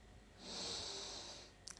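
A single long, steady breath drawn during gentle floor exercises for menstrual pain relief, soft and close, rising then fading over about a second with no talking.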